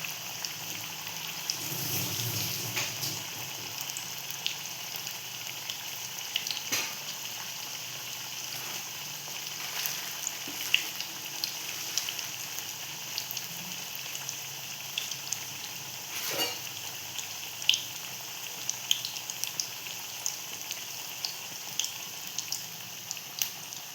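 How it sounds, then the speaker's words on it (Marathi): Egg pakodas frying in hot oil in a kadai, two at a time, give a steady faint crackle and sizzle with scattered small pops throughout, no voices. "दोन दोन सोडणार आणि फ्राय करून घेणार"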